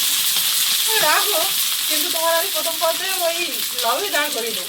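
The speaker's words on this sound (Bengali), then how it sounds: "কচু আর কানকেই ভালো করে ভেজে নিয়েছি" Fish and taro frying in a pan, a steady close sizzle filling the whole stretch, with voices talking over the hiss throughout.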